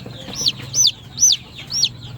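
Baby chick peeping four times in a steady rhythm, close and fairly clear over a low background hum, while its crooked toes are being taped to correct a congenital deformity.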